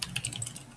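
Computer keyboard keys clatter in a quick run of light taps, close and crisp, with no talking.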